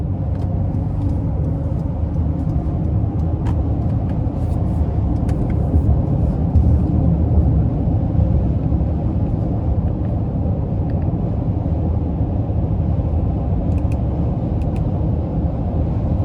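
A 2026 Honda Ridgeline TrailSport AWD pickup accelerates moderately, its engine producing a steady, loud low rumble heard from inside the cab, with continuous road noise and no talking.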